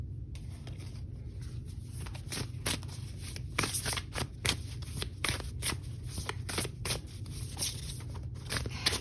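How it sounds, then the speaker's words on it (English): A deck of oracle cards is shuffled by hand up close, a run of rapid riffling bursts and soft slaps repeating steadily over a quiet room, no talking. "I do want to go ahead and draw an oracle card"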